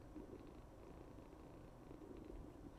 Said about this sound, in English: I don't know if you guys can hear Yumiko just purring her head off over here.